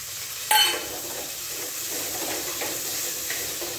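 Fresh curry leaves hit hot oil in a pan with a sudden crackling burst, then settle into a steady close hiss and sizzle as they sauté, with no voices.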